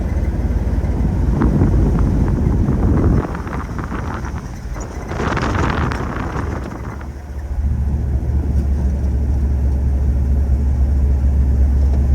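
A 1963 Ford F250 pickup drives along, its engine a loud steady low rumble that dips briefly mid-clip as a gear change happens, then picks back up with wind noise throughout.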